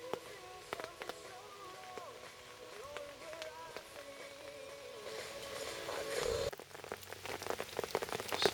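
Steady rain patters on a surface nearby, a continuous wash of drops with scattered louder taps, growing a bit heavier toward the end.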